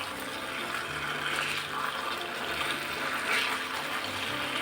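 Fried potatoes are stirred into a bubbling chili sauce in a pan, giving a steady, close, continuous sizzle and wet churning with no talk.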